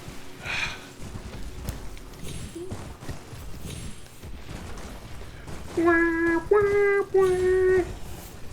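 Horse hooves clip-clop in the video game Elden Ring, steady and moderately close, with a few short tonal game cues over the steps and no talk.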